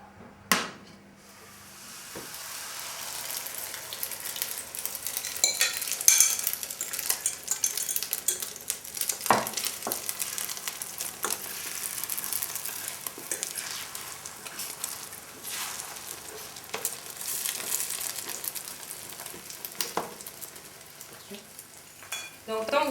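Eggs fry in a little oil in a pan with a steady, soft sizzle, broken by scraping stirs and a few sharp utensil clicks against the pan.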